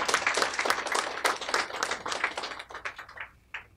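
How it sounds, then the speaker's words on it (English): Audience clapping at an author's book talk, a scattered round of moderate hand claps from a small crowd that thins out and trails off toward the end. "You don't have to clap."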